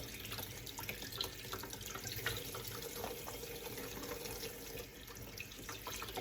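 Tap water runs steadily over Brussels sprouts being rinsed in a kitchen sink, a continuous close splashing hiss with small shifts as the sprouts move under the stream.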